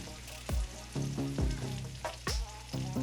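Chili seasoning from a packet sizzles and fries in a freshly oiled pan, with repeated stirring scrapes and bursts of crackle close by, alone without talk.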